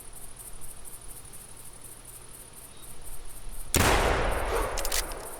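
A single loud, sharp blast from a 10 gauge shotgun fired at a turkey in the hunting game theHunter, cracking suddenly over a faint bed of chirping crickets and outdoor ambience before ringing out.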